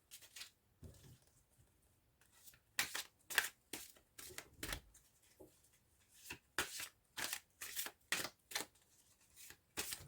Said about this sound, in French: Alors, on va aller tirer nos 9 cartes.